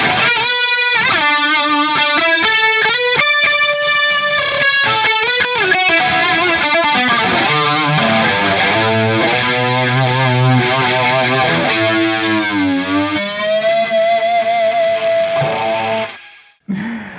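An electric guitar is played through a BOSS Dimension C chorus effect, with shimmering strummed chords and sustained notes ringing loud and close, ending in a held note that cuts off abruptly.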